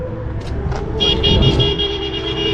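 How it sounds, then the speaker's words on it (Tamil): Busy road traffic near Pamban Bridge, with several short car horn toots in quick succession over a steady engine rumble, loud and close, no talking. "ஒரே டிராஃபிக்காக இருக்குது"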